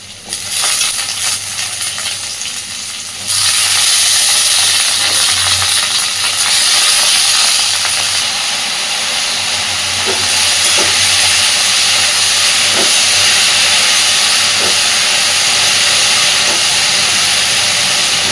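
Potato and eggplant hit hot oil with onion and break into a loud, dense, hissing sizzle that holds steady, with faint scrapes and taps of stirring underneath and no voices.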